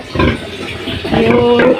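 Pigs grunting and squealing inside a crowded hog raiser's pen, a loud, continuous chorus of overlapping snorts and squeals close by, with one strained, tonal squeal rising near the end.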